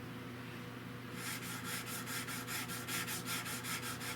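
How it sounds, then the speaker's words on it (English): A wooden rifle stock for a Winchester Model 100 is sanded with sandpaper on a straight block, giving close, rhythmic rasping back-and-forth strokes that start about a second in and continue steadily without speech. "What you want to do is just sand off the high places."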